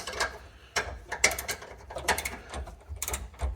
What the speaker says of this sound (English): Always try to tighten on the bolt head side